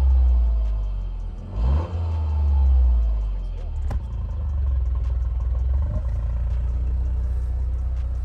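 A Toyota GR Yaris engine starting and idling with a steady low rumble, rising in two brief revs, heard close and fairly loud with a little clatter.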